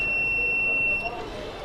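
An Arduino food delivery robot emits a steady high electronic beep tone, continuous and fairly loud over a noisy room background, cutting off about two-thirds of the way through.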